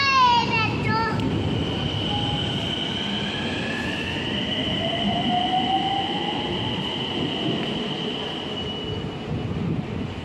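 A Nagpur metro train runs with a continuous rumble and rising, sustained wheel squeal and whine, with a child's and adults' voices over the noise at the start.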